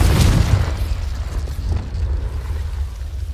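A Confringo spell explosion in the video game Hogwarts Legacy, one deep booming burst that rumbles and fades over a few seconds, loud and close with no speech.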